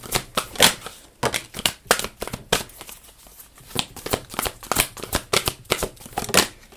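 Oracle cards are shuffled by hand, close and crisp, in repeated bursts of riffling slaps and flutters with short pauses between them.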